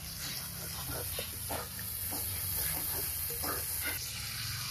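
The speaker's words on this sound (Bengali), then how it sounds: "কষানো মশলার উপরে মাংস দিচ্ছি" Deshi chicken pieces, still wet from rinsing, drop into fried spice paste in a kadai and sizzle steadily, a continuous close frying hiss with faint clinks running through.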